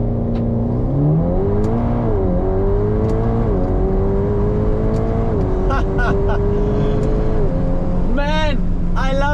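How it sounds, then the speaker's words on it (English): A tuned Alfa Romeo Giulia launches at full throttle with launch control, the engine note rising through a long climbing pull with shifts, loud and close, and a voice talking over it. "first gear, launch control, breakdown, full throttle"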